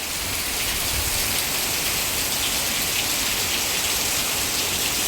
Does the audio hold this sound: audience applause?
no